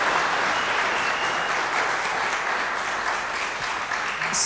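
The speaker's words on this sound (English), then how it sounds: "Could we give him another round of applause, please?" A lecture hall audience claps steadily after a policy lecture on climate action, a dense, even round of applause with no voices over it.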